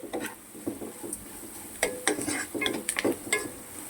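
Food being stirred and fried in a hot nonstick pan, with soft sizzling under scraping strokes of a utensil that come in irregular bursts at close range.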